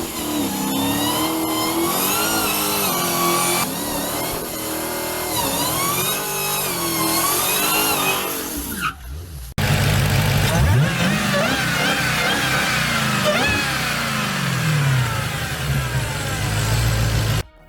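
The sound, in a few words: supercharger gearbox whine with engine revving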